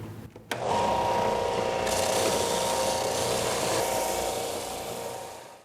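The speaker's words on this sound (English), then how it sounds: "Just a little sanding and we'll have those splines nice and smooth." Wooden splines on a tablesaw splining jig being smoothed with sandpaper, a steady close rasping rub running continuously for several seconds after a brief knock at the start, with no talking.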